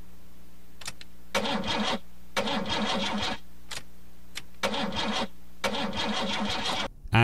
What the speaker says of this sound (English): starting the car